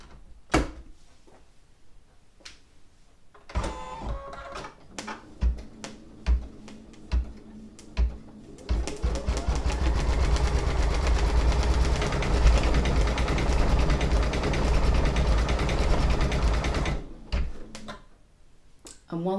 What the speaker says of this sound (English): put the foot down on the machine and set this to start stitching